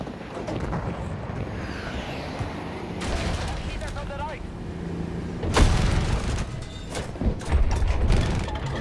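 Machine gun fire in the video game Battlefield 2042 on the Orbital map, with bursts and heavy blasts amid engine and wind noise, while a player talks over the action.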